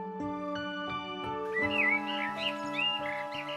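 Birds released into a forest in a cartoon chirp and whistle in bright rising notes over a sustained musical background, several calls in quick succession.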